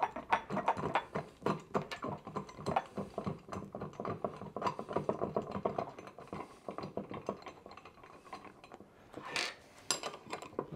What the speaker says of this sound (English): Lock the bolt.